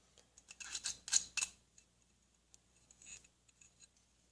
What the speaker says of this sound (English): Trim off some of the excess right there.